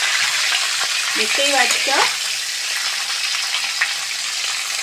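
Cauliflower fries in hot oil with a constant, close crackling sizzle, and a voice speaks briefly over the bubbling fat early on.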